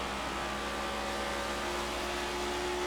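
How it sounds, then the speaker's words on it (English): NASCAR Gen7 race car engines scream in the iRacing video game at the Indy round, a continuous high-pitched engine whine at steady loudness with no talking. "You hear those cars screaming."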